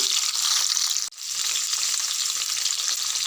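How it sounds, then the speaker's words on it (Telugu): Drumstick pieces fry in oil in a pan for a curry, a steady dense sizzle that runs continuously, broken only by one brief dip before the crackling resumes at full strength. "ములక్కాయలు ఆయిల్లో వేసి ఒక 2-3 నిమిషాలు వేపుకోవాలి."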